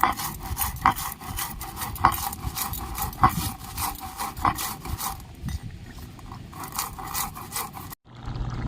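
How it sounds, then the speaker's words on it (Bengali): Spices ground by hand while cooking Gobindobhog rice khichuri, a rough rhythmic rasping of stone on stone with strokes roughly once a second that stop near the end. "মশলাটা আমি গুঁড়ো করে নিচ্ছি বন্ধুরা"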